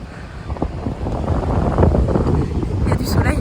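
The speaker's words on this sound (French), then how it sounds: "Il y a du soleil mais j'ai un vent de dingue." Strong gusts buffet the microphone outdoors on a sunny day, a loud continuous rumbling roar that swells and dips throughout while someone speaks.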